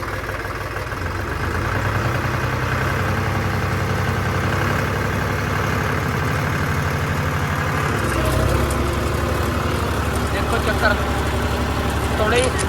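A John Deere tractor engine idles and then revs harder in a farm field being prepared for paddy, a loud steady diesel drone that thickens and deepens midway, while someone talks over it.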